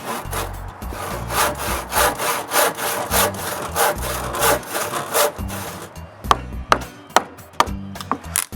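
A hand saw cuts through a wooden stud in steady back-and-forth strokes, close and rasping, then shifts to quicker, sharper strokes near the end.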